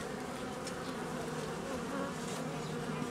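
Honeybees buzz steadily around small hive nuclei in an apiary, a dense, continuous drone of many wings heard close and alone with no talking.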